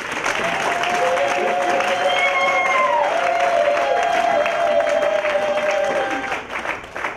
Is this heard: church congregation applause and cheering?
yes